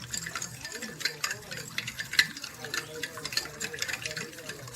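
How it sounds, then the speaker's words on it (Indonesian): A spoon stirs salt into water in a container, making faint, quick clinks and swishes in an uneven rhythm close by, with light background noise. "Kemudian kita aduk hingga rata."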